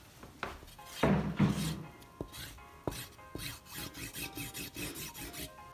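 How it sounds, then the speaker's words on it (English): Dry scraping and rubbing strokes of a knuckle over the tape lines on a taped hockey stick, close and fairly quiet, with a few sharp taps and a run of rhythmic rasping passes toward the end. "This is me rubbing my knuckle against the lines."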